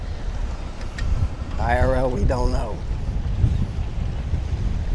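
Strong wind buffets the microphone on the open deck of a cruise ship at sea, a steady loud rumble throughout, while a voice speaks briefly partway through.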